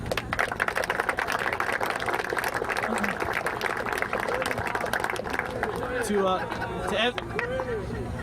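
A crowd applauds the players' parents after a boys' under-17 youth soccer final, with dense, steady clapping for about six seconds before a voice starts talking over the fading applause.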